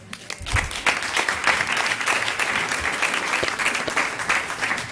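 An audience at a board of trustees meeting breaks into sustained applause, a thick wash of clapping that swells in after a brief start and holds steady, fairly close.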